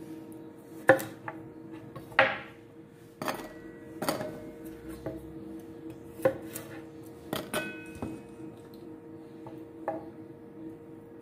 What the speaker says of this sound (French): On va faire la même chose avec les radis. On va les couper